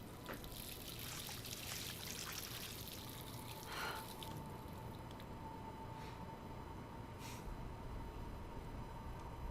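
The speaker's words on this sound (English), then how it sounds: "Let's use the faucet." Faucet water runs steadily in a Life is Strange game bathroom scene, a continuous trickling stream with soft splashes and a faint tonal hum, with no voices over it.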